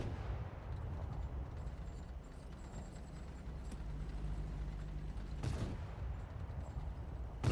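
A Patton tank cannon fires once in a tank video game, a single sharp blast about two-thirds of the way through, over a steady low engine rumble and mechanical clatter.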